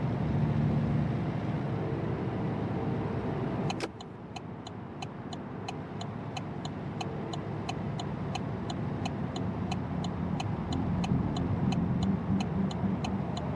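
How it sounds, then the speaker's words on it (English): A car passes in American Truck Simulator, a steady road rumble throughout with a brief sharp burst near four seconds and faint rhythmic ticking after, no talk. "There goes that car with the high music, the loud music."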